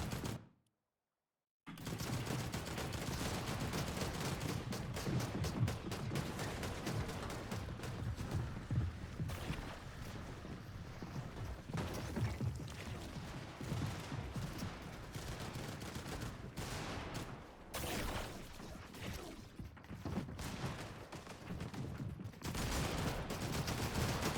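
Gunfire in an online shooter match, a dense, steady stream of rapid shots and fusillades running almost without a break after a brief silent opening, with no talking.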